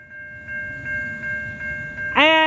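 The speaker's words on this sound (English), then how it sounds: "And we got a train coming." A Union Pacific coal train, locomotive 7225, approaches an activated road crossing: a steady warning bell rings over a low rumble, then a loud, close horn blast cuts in at the end.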